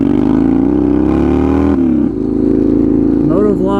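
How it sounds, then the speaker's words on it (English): A motorcycle with straight pipes accelerating close by, a loud raw engine roar rising through the gears with a brief dip between shifts, then settling into a steady drone. "Apologies for that ungodly acceleration"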